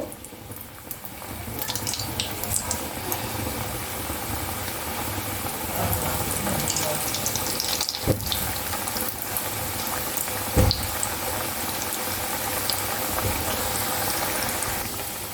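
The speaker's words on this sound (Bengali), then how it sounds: "আমার তেলটা একদমই গরম হয়ে গেছে, আমি এবার পিঠেগুলো আস্তে আস্তে ভেজে নেব।" Biuli (urad) dal pithas frying in very hot white oil, giving a steady, dense bubbling sizzle that holds at an even level, with a couple of brief knocks near the middle.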